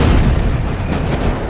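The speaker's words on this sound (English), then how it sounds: "Vic's first missile detonated by the tail." A Sidewinder missile detonates near the tail of a MiG in a loud, sustained roaring blast that fills the short stretch with dense rumbling noise and no voices.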